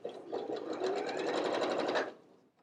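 A sewing machine stitches two layers of lightweight tissue knit fabric in one steady, rapid burst of needle strokes, close and clear, winding down at the end.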